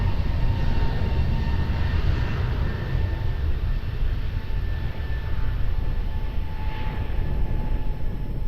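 A passenger airliner taking off from runway 20 at Lisbon Airport, a steady broad engine roar that holds at constant loudness throughout, with a faint whine on top and no voices.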